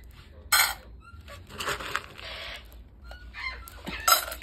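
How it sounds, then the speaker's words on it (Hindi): Harsh, squawking parrot calls in short bursts, repeated several times with pauses between, fairly close and loud against a quiet background. "ये मेरा तोता बोल रहा है पीछे से, जिसकी आवाज़ आ रही है"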